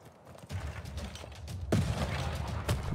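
Bursts of gunfire from units in the strategy game Civilization 6, a dense crackling volley swelling in two waves, loud and close with a mechanical clatter.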